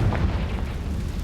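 Confringo blasting spell going off in Hogwarts Legacy, a deep booming explosion with a low rumbling body that holds steady and loud through the short moment, with no talking over it.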